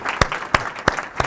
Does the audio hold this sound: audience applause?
yes